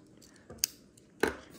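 Scissors on a Swiss Army knife cut paracord with two sharp, close snips about half a second apart against a quiet background.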